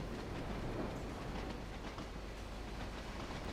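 Class 20 diesel locomotive in a Train Sim World 2 game hauling steel wagons, heard as a steady, continuous rumble of rolling stock and engine with no break or talk over it.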